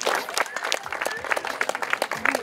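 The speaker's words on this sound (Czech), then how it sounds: "tak ji podpořte potleskem" Spectators at a running race awards ceremony in Hošťálkovice applaud a winning woman runner, brisk uneven clapping from a modest crowd, fairly close and lively throughout.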